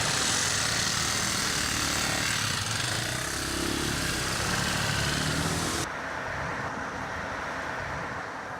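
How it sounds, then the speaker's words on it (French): Honda 250 Trial single-cylinder motorcycles run with a dense, steady engine drone that stays loud throughout and drops slightly in tone near the end. "nous réceptionnons nos motos, des 250 Honda Trial monocylindres, et c'est parti pour 2000 km"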